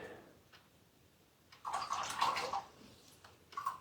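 A watercolor brush is swished and rinsed in a water jar, a short close sloshing splash in two brief bursts after near silence, fairly quiet and without talk.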